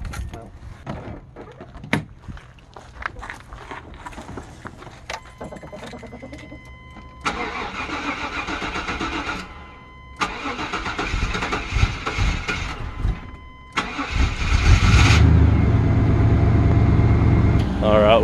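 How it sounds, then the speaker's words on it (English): A Ford Thunderbird's starter cranks in three sustained bursts, each a few seconds long and growing louder, with the last run the strongest. Voices and small rattles are heard before the cranking starts. "Power to turn the starter."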